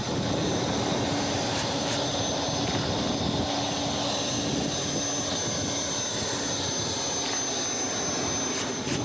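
Airliner jet engines roar during takeoff, a loud, steady, continuous whine and rumble heard from inside the cabin, with no talk.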